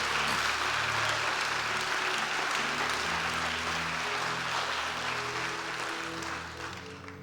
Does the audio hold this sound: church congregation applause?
yes